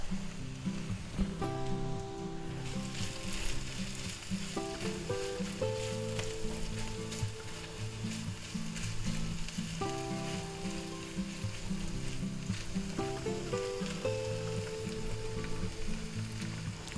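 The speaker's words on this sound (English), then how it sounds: "This ham's already cooked, just needs to be warmed up a little bit, so we're going to put that in there" Cooked ham warming in a hot pan for a breakfast burrito, giving a steady, dense sizzle throughout, with faint background music tones running underneath and no talking.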